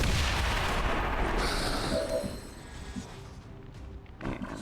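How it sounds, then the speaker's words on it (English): Claymore blast in the video game XCOM 2, a loud roaring boom that opens the clip and rumbles away over a couple of seconds, leaving faint background noise. "Then shoot the claymore."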